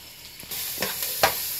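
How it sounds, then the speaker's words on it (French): Onion frying in a pan, a soft steady sizzle that swells suddenly and carries brief louder crackles and stirring scrapes, close by and with no talking. "While I'm frying the onion, I'm going to get this salad ready"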